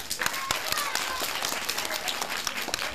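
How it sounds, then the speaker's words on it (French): A children's audience claps loudly at a kids' show, a dense burst of many hands clapping with some crowd noise, steady and close throughout. "applaudissez très fort."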